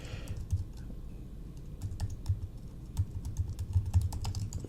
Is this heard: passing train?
no